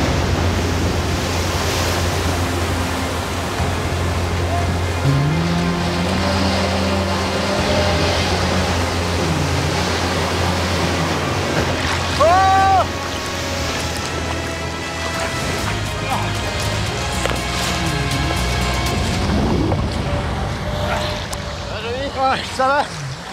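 A lifeguard's jet ski runs at sea off a swimming beach, its steady engine drone droning continuously beneath the wash of waves and water, with occasional people talking over it.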